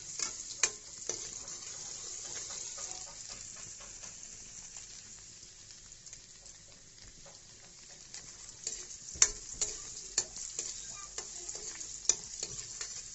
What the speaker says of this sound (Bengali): পনিরগুলো অলমোস্ট ভাজা হয়ে গেছে, এখন এক এক করে তুলে নিব